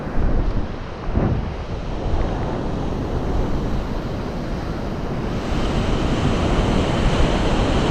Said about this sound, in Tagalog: Talagang nagwawala na yung tubig.